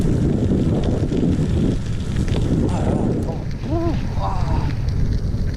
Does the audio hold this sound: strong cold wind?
yes